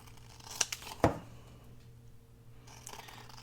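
Scissors snipping paper scraps, two or three faint close cuts and a crisp paper rustle near the start, then mostly quiet room tone.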